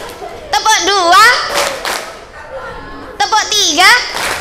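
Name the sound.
children clapping in unison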